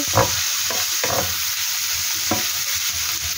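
Onion and garlic sauté in a pan for ginisang sotanghon, a steady close sizzle with a few sharp stirring scrapes of the spatula breaking through, no voices.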